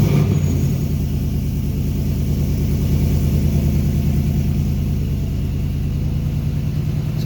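A 2019 Ford Mustang S550 fitted with new longtube headers idles in a steady, loud, deep rumble with an even exhaust pulse, holding constant without revving.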